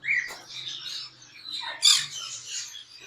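A pair of ringneck parakeets giving shrill, scratchy squawks and calls in quick succession, heard fairly close at a modest level, with one louder, harsher cry partway through.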